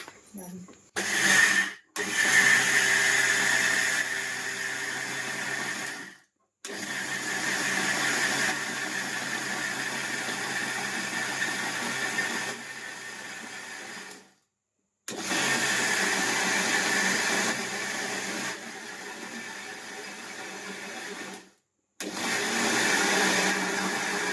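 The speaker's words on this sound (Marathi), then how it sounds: "हे बघा बारीक वाटून घ्यायचे बारीक आता वाटून घ्यायचे" A mixer grinder grinds soaked dal and rice into batter, running in loud, steady whirring bursts of several seconds each, separated by brief silent pauses where the motor stops, with a voice speaking over it.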